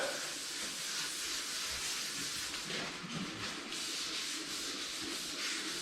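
A sanding block worked over a panel of a Suzuki SU-BURB being repaired, producing a continuous close rasping scrub with slight rhythmic surges, alone without talking.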